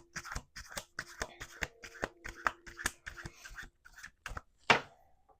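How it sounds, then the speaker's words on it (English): A deck of cards is shuffled by hand in a quick series of crisp riffling bursts, close and fairly loud, ending with one sharper snap of the cards. "Last shuffle."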